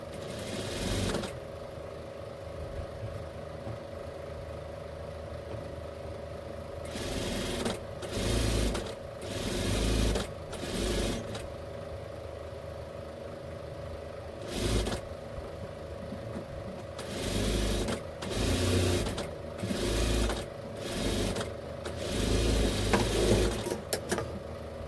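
Sewing machine stitching lace onto a readymade blouse, with a constant low motor hum broken by repeated short bursts of stitching at a close, moderate level.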